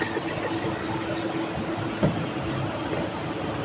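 Water drains from a home aquarium holding molly fish during a water change, making a steady close splashing and trickling rush with one small splash partway through.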